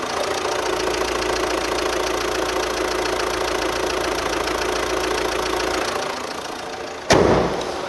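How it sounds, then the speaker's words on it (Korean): Close, steady engine idle of a 2020 imported SUV with the bonnet open, a fine ticking rhythm heard at length before a sudden clunk near the end. "엔진 룸 보여드리면서 엔진 음도 한번 들려드릴게요."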